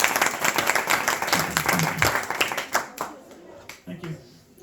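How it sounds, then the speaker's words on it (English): A group of people at a Bhakti Vriksha gathering gives a round of applause, dense clapping that thins out into scattered claps near the end, with some talk mixed in. "So please give a round of applause to Pankaj Prabhu."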